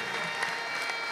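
Church congregation applauding together, a steady dense wash of clapping with crowd murmur, moderately loud and continuous throughout.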